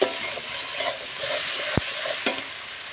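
Turmeric, chilli powder and salt being stirred into a frying masala in a pan for soybean fish curry, a close hiss with scraping strokes and a couple of sharp utensil knocks, no voices.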